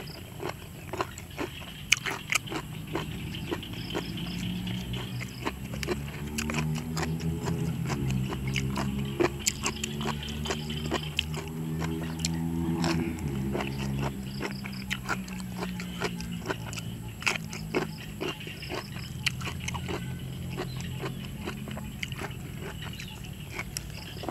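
Crunchy, spicy pounded jellyfish salad is chewed up close in an evening outdoor setting, with repeated sharp crunching bites and wet mastication sounds continuing throughout, with faint background murmur.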